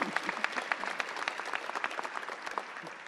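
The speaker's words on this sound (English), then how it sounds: "we need to give them a round of applause again." Audience applause at a Los Angeles Metro press briefing, a steady patter of many hands clapping at moderate distance, fairly faint and continuous throughout.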